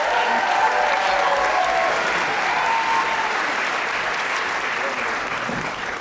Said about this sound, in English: applause for those soloists, everybody.